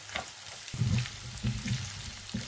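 Garlic and onion sauté in a hot pan, a steady soft sizzle with the occasional scrape of stirring, heard alone with no talking.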